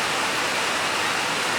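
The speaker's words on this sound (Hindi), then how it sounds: "ये इतनी तेज बारिश" Heavy rain pours down during an outdoor cricket match as a dense, loud, unbroken hiss with no other sound standing out.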